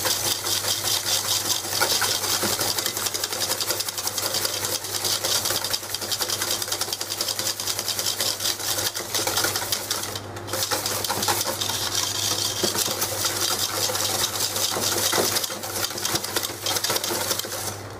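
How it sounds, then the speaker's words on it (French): Steady rapid scraping and ticking of a whisk beating egg and sugar in a bowl for pastry cream, continuous and close, with a constant low hum underneath and no talking. "vous n'entendez plus le sucre râper un petit peu au fond du calot"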